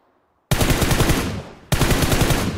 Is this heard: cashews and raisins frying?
no